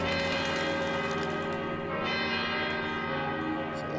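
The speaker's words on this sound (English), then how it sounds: "You heard the bells." In the Valkyria Chronicles 2 video game, church bells ring loud and sustained, overlapping tolls blending into a dense shimmering wash throughout.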